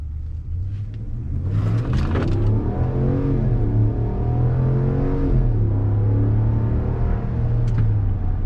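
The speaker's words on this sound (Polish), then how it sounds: "te 8 cylindrów robią robotę" A RAM 1500 pickup's V8 engine rumbles deep and steady as the truck pulls away and accelerates, the pitch rising smoothly with no talking.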